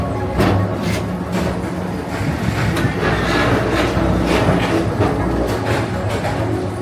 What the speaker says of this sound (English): express train keeps on rolling through the future